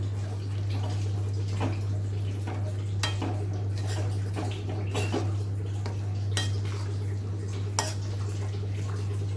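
Pav bhaji and pav stirred together in a metal pan, with steady scraping and clinking of a spatula against the pan over a constant low electrical hum, no talking.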